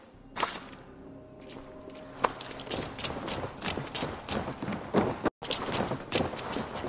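Rhythmic hoofbeats of a horse set off at a trot in Assassin's Creed Valhalla, mixed with whooshes and game effects, steady and fairly loud throughout.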